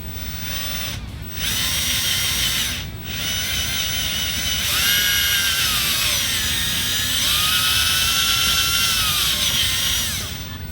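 Hand drill reaming a rifle barrel clamped in a vise in a home shop, a steady loud whirring grind that pauses twice briefly, then returns with rising and falling pitch through the rest of the stretch, with no voices.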